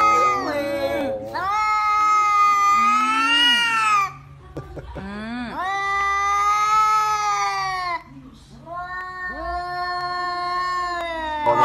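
Several cats yowl and caterwaul in long, loud, wavering cries, one after another with brief gaps, close to the microphone.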